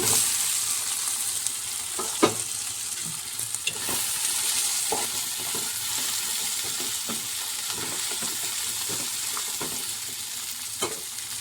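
Jackfruit seeds stirred in a hot pan for a curry, a steady close sizzle of frying with repeated clicks and scrapes of the spoon against the pan throughout.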